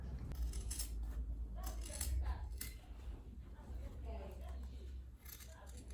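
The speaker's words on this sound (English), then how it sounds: "I'm just going to cut off the thread. Then I'm going to trim off wording here." Scissors snipping thread on a quilted tote bag with boxed corners, a few light metallic clicks over a steady low hum, close but faint, with a voice talking in the background.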